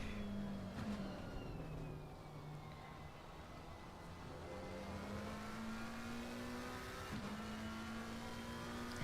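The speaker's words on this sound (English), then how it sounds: "It sounds like the McLaren." A McLaren engine in a sim racing game drones and revs, its pitch rising through gears then dropping with shifts, steady and fairly quiet with no voices.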